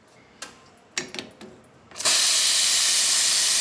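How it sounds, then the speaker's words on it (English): A Profitec espresso machine steam wand, freshly serviced, gives a few short clicks and puffs, then bursts into a loud, steady, continuous hiss of strong steam up close. "Nice strong steam."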